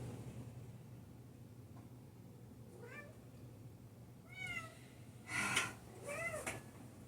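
A pet cat meows several times indoors, a few short rising mews followed by louder, drawn-out calls near the end, fairly close over a low room hum, with no one speaking.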